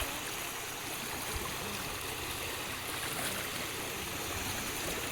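Knee-deep river water churned by people wading across near a riverbank, a dense continuous rushing and splashing wash, close and steady throughout, no clear voices.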